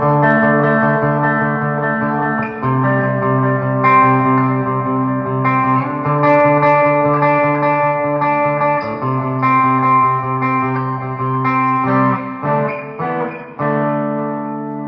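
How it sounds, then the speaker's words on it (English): A clean Westcreek JX-50 electric guitar plays sustained chords and picked notes, with reverb and delay echoing behind them. It is steady and fairly loud, with no voices. "now we're going to switch to a clean tone with a little bit of reverb and delay."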